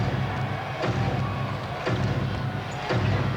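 Basketball arena crowd during a 1997 Seattle SuperSonics home game against the Chicago Bulls, a continuous roar of cheering and noise with a few dull thumps underneath.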